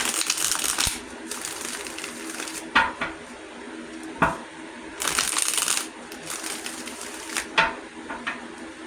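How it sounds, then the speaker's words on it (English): Tarot cards shuffled by hand up close, with repeated crisp riffling bursts and soft flicks and taps between them, no talk. "Let me shuffle."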